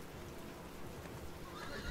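A summoned horse in the Roblox game The Wild West gives a faint, short neigh over a soft, grainy background hiss.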